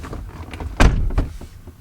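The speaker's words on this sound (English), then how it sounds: "Wait, what happens if I open the door?" A car door on a 2003 VW Passat being opened, a short mechanical clunk and latch release with a faint whirring tail, heard close in a quiet interior.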